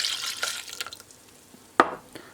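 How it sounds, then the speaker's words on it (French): Ingredients with milk being stirred in a saucepan: soft, irregular scraping and swishing, then one sharp clink of the utensil against the pan near the end. "Je mélange."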